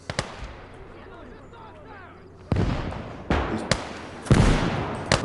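Artillery fire in the WWII Eastern Front strategy game Call to Arms: Gates of Hell booms in several heavy, close blasts after a quieter stretch of distant battle ambience.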